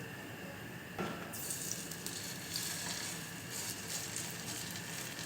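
Potato pancakes with minced meat frying in sunflower oil in a skillet on a stove, a steady close sizzle that swells after the first second and holds broad and continuous, with no talking.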